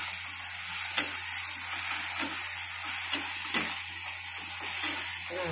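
Peas fry with masala in a pan, a steady close sizzle running throughout, punctuated by occasional sharp clicks of a spoon stirring against the metal.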